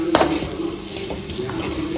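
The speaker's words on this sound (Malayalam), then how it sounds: "വഴറ്റുന്ന ആ സമയം കൊണ്ട് ഉള്ളി വറുത്ത് പെട്ടെന്ന് എടുക്കാം" Onions sautéing and frying in a pan for butter chicken, a close, steady sizzle with stirring scrapes and light clinks of a utensil against the pan.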